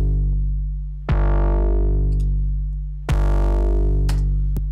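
A drum loop runs through stacked trash distortion plugins: two booming, heavily distorted hits land about two seconds apart, each ringing out in a long buzzing decay, with small ticks between them.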